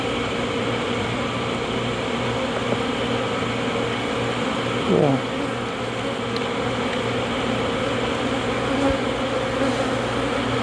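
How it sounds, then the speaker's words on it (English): Honey bees buzz around an open horizontal hive during an inspection, a close, continuous droning hum with individual bees flitting past the listener. "Lots of bees."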